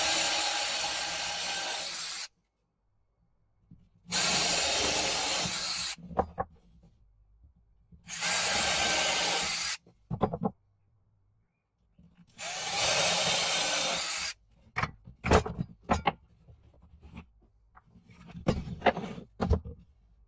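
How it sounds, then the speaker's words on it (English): A power drill with a 3mm bit whirs in several bursts of a couple of seconds each, drilling pilot holes in wood for a bird table, separated by pauses, followed by scattered clicks and knocks. "use a small drill bit. I used a 3mm drill bit to drill pilot holes into each mark you've made"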